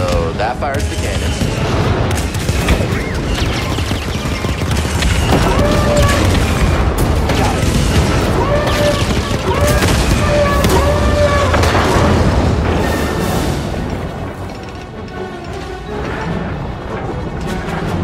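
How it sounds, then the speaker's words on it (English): Heavy booming cannon shots mixed with volleys of blaster fire and crashes, sustained and loud, with voices speaking throughout. "So that fires the cannon."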